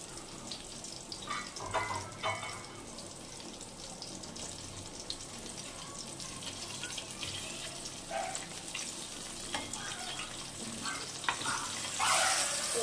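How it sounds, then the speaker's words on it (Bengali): Continuous crackling and spluttering of river fish frying in oil, steady and close, with occasional louder pops and a brief sharper hiss near the end. "মাছগুলো এত ফুটছে এত ফুটছে যে আমার গ্যাস অফ করে করে করতে হচ্ছে"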